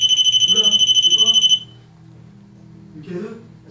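A paranormal investigation pod device beeps in a rapid, shrill pulsing alarm for about a second and a half, then stops as people's voices follow nearby.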